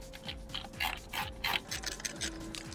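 A ratcheting tool backs screws out of a Can-Am Ryker motorcycle in the middle of an intake installation, giving close, repeated clicking in quick bursts with a faint steady hum underneath.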